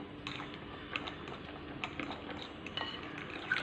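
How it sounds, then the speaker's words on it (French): Cake batter for a gluten-free, lactose-free cake, made with coconut milk, being stirred in a bowl: light clinks and scraping taps of a utensil against the dish in an irregular rhythm, close and fairly quiet. "Et on va mélanger tous les ingrédients."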